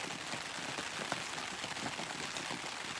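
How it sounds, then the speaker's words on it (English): Steady, dense patter of heavy rain drumming on a surface during a night of UK camping, constant and fairly close, with no voices. "You can hear the rain now. It's not stopped for hours."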